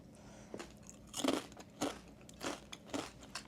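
Thin, slightly hard Trader Joe's potato chips are bitten and crunched close up. About five crisp crunches come at roughly half-second gaps against a quiet room.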